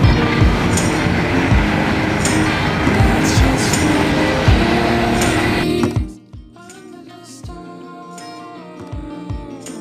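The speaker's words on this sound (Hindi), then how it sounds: "ये सिर्फ पैसेंजर ट्रेन नहीं, ये कार्गो ट्रेन्स भी हैं।" A train passes through a UK railway station with a loud, heavy rumble and clatter that fills the first six seconds, then cuts off abruptly to quieter station ambience with occasional faint knocks.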